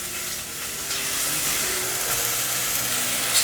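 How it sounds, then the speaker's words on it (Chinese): Sliced loofah and shredded black wood ear fungus stir-fried in a hot wok for a vegan dish, giving a steady, close, even sizzle with a faint hiss throughout and no talking. "继续翻炒"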